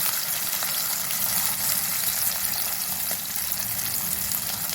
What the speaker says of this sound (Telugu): ఇప్పుడు కాకరకాయ ముక్కలు వేస్తానండి బాగా వేయించాలి క్రిస్పీగా వేయాలి